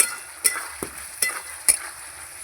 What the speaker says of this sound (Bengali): মশলা আমি কিছুক্ষণ কষিয়ে নিয়েছি লবণ দিয়ে দেবো লবণ এবার আর একটু ভালো করে কষিয়ে নেব